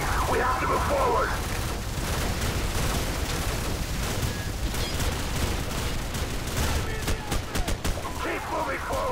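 Sustained Call of Duty 4 Modern Warfare battle gunfire, dense bursts of rifle and machine-gun shots with booms, loud and continuous, while soldiers shout orders underneath.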